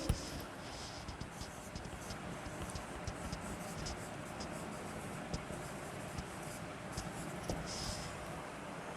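A pen scratches steadily across a writing surface as an English sentence is written out, making soft continuous strokes over a constant background hiss.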